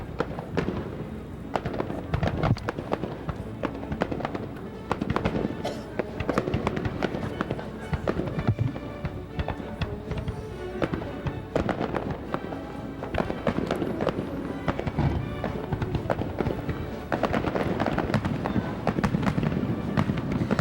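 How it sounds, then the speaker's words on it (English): A Fourth of July fireworks display in 1993, with continuous loud booms, crackles and rapid bursts over about twenty seconds and voices mixed in beneath the barrage. "we have the 4th of July fireworks actually on the 4th of July this year"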